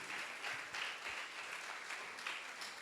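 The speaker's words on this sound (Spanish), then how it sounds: "Denle un aplauso fuerte al Señor en esta hora." A church congregation claps at a Spanish-language service in faint, sustained applause heard from a distance, with rhythmic pulses running through it.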